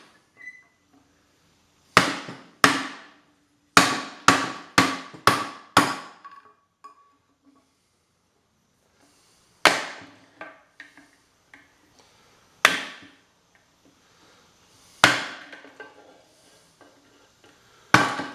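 A big old flathead screwdriver used as a chisel is struck with a hammer to remove plastic from a pump impeller with a brass insert, sharp ringing metallic blows in quick bursts of four or five, then single strikes after pauses, close and loud.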